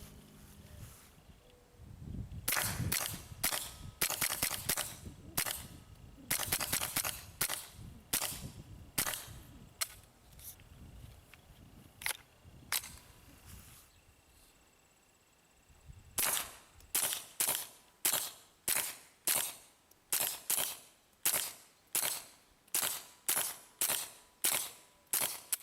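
Suppressed .22 gunshots from a Ruger Charger pistol with a 4.5-inch Beyer barrel, sharp muted cracks fired in irregular bursts, then a steady rapid string of evenly spaced shots near the end.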